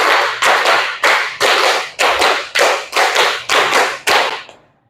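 Group hand clapping in an elementary school classroom, a run of about ten loud, broad claps in a rhythmic pattern, each ringing briefly before the next, then fading to quiet at the end.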